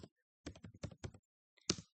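Keys clack on a computer keyboard as C++ code is typed, a quiet close run of about six quick strokes followed by a pause and one firmer final tap.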